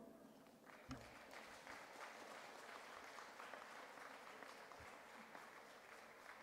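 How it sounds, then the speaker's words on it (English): Graduates at a university ceremony clap for a group across the hall, sustained broadband applause filling the room steadily from start to finish, dense and even with no voices standing out. "Give them a clap."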